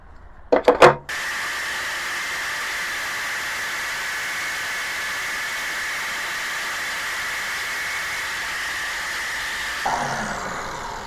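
The tip of an old Robertson screwdriver bit being ground down, a few sharp clatters at the start, then a long steady whirring hiss from the grinder that drops off near the end.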